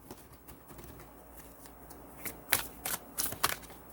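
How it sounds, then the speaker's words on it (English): Quiet rustle at first, then a run of crisp, riffling tarot card shuffles in quick bursts, close and fairly loud, with no talking. "I can shuffle all day if I am reading for myself"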